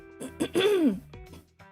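A single short cough from a person with asthma, a rough throaty burst with a rising vocal squeak, close to the microphone in a quiet room.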